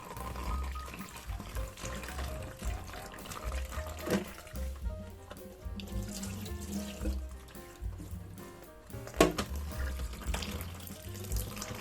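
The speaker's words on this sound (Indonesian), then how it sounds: "Kemudian kita cuci bersih, kita bilas." Running tap water over peeled shrimp in a sink, a steady splashing stream with bursts of trickling and handling noise throughout, close and moderately loud, with no talk.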